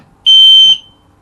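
A ceiling-mounted carbon monoxide alarm being tested gives one loud, piercing high-pitched beep lasting about half a second, close by in a quiet room.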